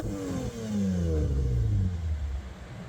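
A Lexus IS200 drift car's engine revs up from a low rumble, climbs and holds a loud, rising whine, then eases back down, heard alone and close.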